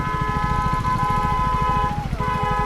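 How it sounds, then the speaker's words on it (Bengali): An ambulance siren wails steadily and loudly on a busy road near a crash scene involving a BMW, its tone gliding briefly before settling, over a constant rumble of engines and traffic. "এই অ্যাম্বুলেন্স অ্যাম্বুলেন্স অ্যাম্বুলেন্সে যেতে দেওয়া হবে।"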